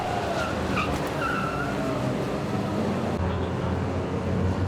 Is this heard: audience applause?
no